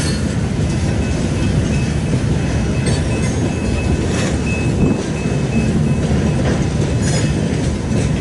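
A train rolls past at close range in Fremont, Nebraska, a loud continuous roar of wheels and cars with rhythmic clatter and occasional faint squeals throughout.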